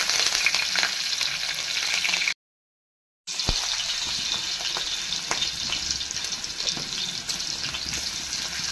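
Green chillies fry in hot coconut oil for a chicken biryani, making a loud, continuous close-up sizzle that cuts out briefly and then resumes.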